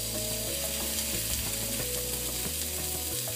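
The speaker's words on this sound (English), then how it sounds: "I'm going to put it skin side up onto our cast iron skillet." Spiced salmon sears skin side up in a hot cast iron skillet, a loud, continuous close sizzle with a steady crackling texture and no talk.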